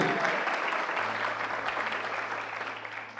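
A church congregation applauds during a Catholic charismatic renewal sermon, a broad wash of clapping that starts full and slowly thins toward the end, with a steady low hum underneath.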